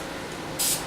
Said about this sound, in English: So I'll go ahead and spray it.